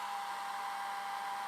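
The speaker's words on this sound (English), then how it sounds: "I'm gonna use my 1970s blow dryer here." A 1970s blow dryer running steadily, a constant close whirring hum with an even airy rush, loud and unbroken throughout, no voices.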